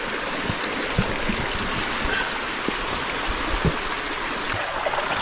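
Water from a volcanic hot spring runs steadily down a mountainside in a continuous close rushing flow, with small splashes and gurgles scattered through it.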